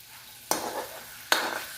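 Dried fish sautéed in a pan makes two sharp scraping stir strokes with a brief sizzling wash after each, close and moderately loud, without talk.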